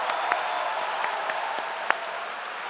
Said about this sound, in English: Let's give the Wales rugby team a round of applause.